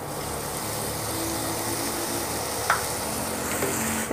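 Ginger garlic paste frying with golden-brown onions in a pan over medium-high flame, a steady even sizzle with a brief stir or clink partway through.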